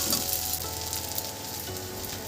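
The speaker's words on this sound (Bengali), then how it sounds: "ঢ্যাঁড়সটা ভালো করে ভাজা ভাজা হয়ে গেছে।" Okra frying in a pan before cooked pigeon pea dal is added, heard as a short, steady close sizzle with a faint stir.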